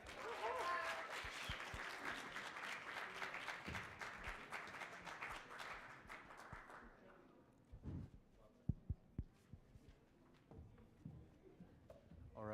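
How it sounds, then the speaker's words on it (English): Audience applause for campus election candidates at an all-candidates forum, a dense, steady wash of clapping that fades after about seven seconds into scattered claps and light crowd noise. "So another round of applause for our Progress Campus candidates."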